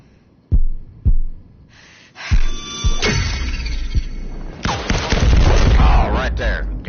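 Gunfire in the tactical shooter Firewall Zero Hour: several sharp, loud shots in quick bursts, then a dense stretch of rapid firing and game noise, with a voice speaking over parts of it.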